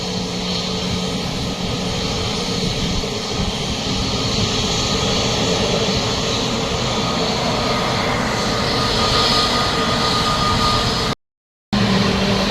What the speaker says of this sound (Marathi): आता हे लँडिंग कसं होईल बघा, चाललं तिकडे लँडिंग होण्यासाठी, गेलं बघा, झालं लँडिंग झालं।